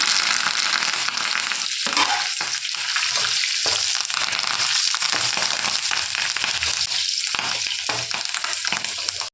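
Onions, garlic and curry leaves sizzle and crackle steadily in hot oil, a loud continuous frying hiss with scattered pops and stirring scrapes, no voices.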